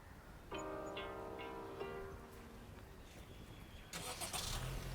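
A new Honda City's engine cranks and catches, settling into a smooth, quiet idle heard close inside the car, followed by a burst of rustling noise near the end.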